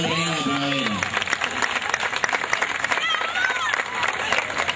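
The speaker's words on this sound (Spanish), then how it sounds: "El aplauso para la actual reina de primavera." An outdoor crowd on a cold night in a town plaza applauds the reigning spring queen at a summer festival. The clapping runs continuously and mixes with voices and cheering.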